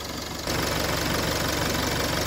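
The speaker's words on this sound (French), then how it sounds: "pendant que le moteur tourne" Close, steady running of a 2017 Range Rover Evoque diesel engine, a dense rumbling idle with even knocking pulses that jumps louder after half a second and then holds level, with no voices.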